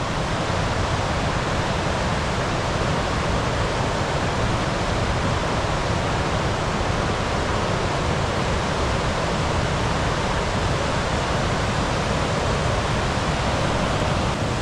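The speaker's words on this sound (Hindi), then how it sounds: "सामने नदी बह रही है" A strong river flowing in Aru Valley, a steady, loud, unbroken rushing roar of water filling the whole scene with no voices.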